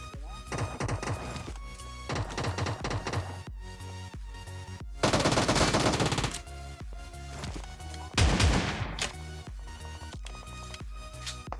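Rapid bursts of PUBG gunfire, sharp repeated shots in clusters with heavier volleys, no talking.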